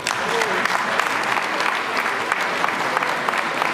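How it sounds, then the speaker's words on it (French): Sustained loud applause from an audience at a mayor's New Year's wishes ceremony, dense clapping filling the whole stretch without pause. "Les applaudissements, c'est également le maire précédent qui les mérite"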